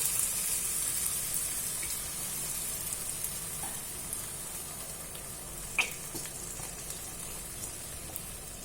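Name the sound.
chicken curry cooking after adding coconut milk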